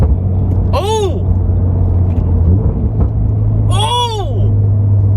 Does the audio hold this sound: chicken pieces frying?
no